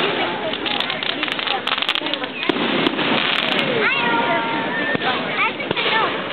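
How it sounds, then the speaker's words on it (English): Fireworks go off at a boat harbor in a rapid string of sharp cracks and pops over a crackling wash. Excited voices and whistling tones come through between the bursts. "Fireworks. I love fireworks now."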